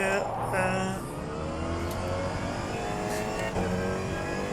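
In the rFactor 2 racing simulator, a race car engine drones continuously while lapping a track, with a voice speaking over the steady whine.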